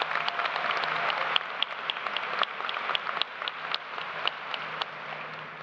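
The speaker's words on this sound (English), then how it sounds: "Let's give her another round of applause." An audience at a college commencement ceremony applauds steadily, a dense wash of clapping with sharper individual claps standing out, gradually easing off toward the end with no voices over it.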